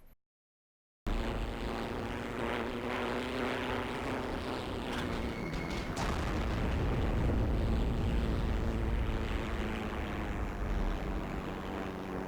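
A Bf 109 fighter's engine drones steadily and loudly in Heroes and Generals, a continuous propeller roar with no talk over it, after a brief silent start.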